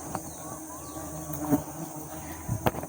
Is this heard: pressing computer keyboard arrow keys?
no